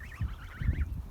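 Geese calling in a vegetable garden with broccoli and kale, a few short honking cries close by over a low rumbling background, with no talking.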